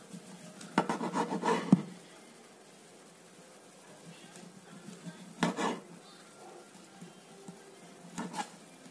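A serrated knife saws through whole wheat oat bread with rasping strokes in a few short bursts, a close burst at the start, another midway and one near the end, with quiet stretches between.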